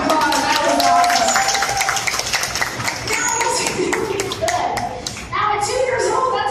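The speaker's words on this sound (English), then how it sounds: "Give me a round of applause." Audience clapping at a dolphin show at Clearwater Marine Aquarium, a dense burst of applause that starts strongly and carries on steadily for several seconds alongside crowd chatter and ambient noise.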